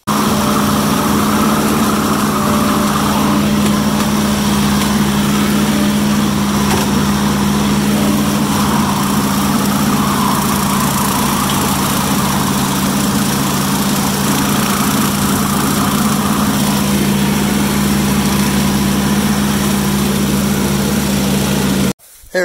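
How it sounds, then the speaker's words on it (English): Tractor pulling a brush hog mower through thick brush, a loud steady engine drone with constant rough cutting noise throughout, abruptly cut off at the end. "we'll get the mower hooked up and get a little video of that brush hogging"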